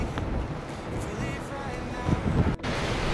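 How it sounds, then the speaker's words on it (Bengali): Strong wind roars over the microphone while surf breaks at Lusty Glaze and Tolcarne beach in Newquay, Cornwall, a loud, continuous rushing wash with a brief dropout near the end. "ব্যাপক ঢেউ।"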